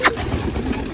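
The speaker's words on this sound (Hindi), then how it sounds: "आज दोस्तों भी छत पे आके मैंने कबूतर निकालने हैं कुछ बाहर" Pigeons on a rooftop, some of them golden, being let out to fly, with a brief close coo or flutter at the start over a faint outdoor background.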